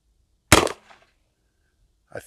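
A single sharp shot from a Henry All Weather side-loading-gate .44 Magnum rifle fired at a target 30 yards away cracks loudly and decays quickly, followed by a faint short noise near the end.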